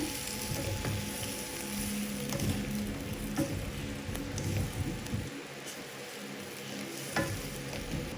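Pakbet vegetables with coconut milk are stirred in a cooking pot, a steady scraping, clattering stir over a soft simmering sizzle, close by and without talk.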